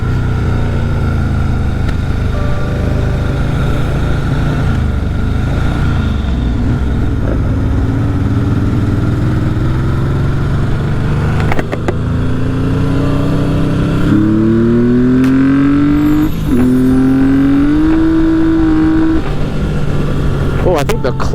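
A Yamaha XS750 motorcycle rides through town streets, its engine droning steadily and then climbing through several rising revs. Someone talks over the engine throughout.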